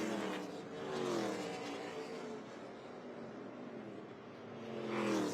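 ARCA Menards Series West race cars at Irwindale Event Center flashing across the start-finish line, with a steady engine roar that swells near and fades; no talking.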